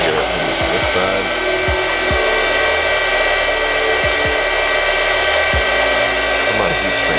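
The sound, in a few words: heat gun shrinking heat-shrink tubing on JST connectors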